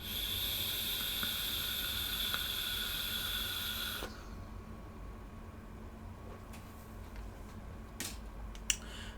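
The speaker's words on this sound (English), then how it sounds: "So I'll give you a vape here" Airflow hissing through an Eleaf LEMO 2 tank on its stock 0.6 ohm coil at 35 watts with the airflow fully open: a steady broad hiss for about four seconds, then a quiet room with a few faint clicks.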